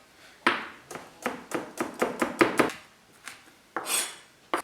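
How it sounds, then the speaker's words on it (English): A knife chopping spring onions, chilli and garlic on a board in a kitchen, a run of about a dozen crisp, close cuts in an uneven rhythm with brief pauses. "I'm going to cut up my chilli, I'm going to cut up my garlic."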